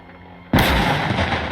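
A US medium tank cannon fires in the World War II game Call to Arms: Gates of Hell, one loud, sudden booming blast that breaks a quiet start and rolls on as a heavy, sustained rumble.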